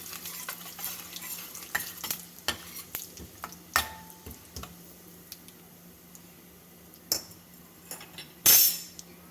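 Cumin seeds, cloves, cinnamon and cardamom sautéing in a pan make a soft, steady sizzle broken by irregular clicks and scrapes of a spoon stirring, with one louder clatter near the end, and no voice.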